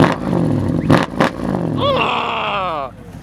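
A car engine at a busy car meet, revved in short bursts, then holding a rising, whining pitch for about a second before dropping off, with people talking loudly over it.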